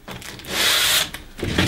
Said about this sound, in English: take a little bit of abrasive, this is 120, and just clean up that